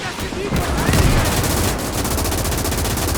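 Sustained machine gun fire from a World War II Eastern Front trench battle in Gates of Hell, loud dense rapid bursts with no clear gaps, a few sharper shots on top and battle noise underneath.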